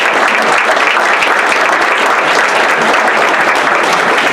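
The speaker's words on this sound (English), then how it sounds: "if we can all just give them a round of applause and appreciation for what they did" Audience at a county Republican party meeting gives a dense, loud, sustained round of applause, steady throughout with no voices standing out.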